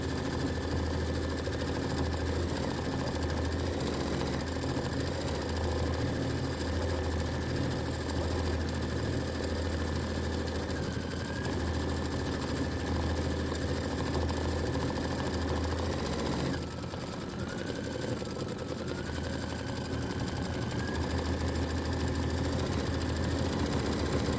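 An embroidery or sewing machine runs a satin stitch, a steady continuous mechanical hum lasting throughout, close and even, with a brief dip in the middle before it resumes.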